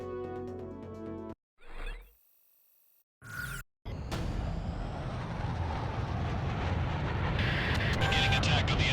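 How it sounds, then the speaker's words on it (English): Fighter jets in Ace Combat 6 roar loudly and continuously after a few brief bursts of sound, a dense, steady jet engine rush filling the scene as the aircraft take off. "Garuda team, time to take off."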